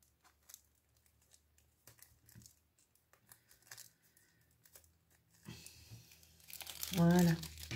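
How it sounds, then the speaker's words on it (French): A crinkly plastic pouch of craft drops is torn and crumpled open, a loud crackling burst near the end after quiet rustles and soft handling noises, with a voice speaking briefly. "Si j'arrive à ouvrir la pochette"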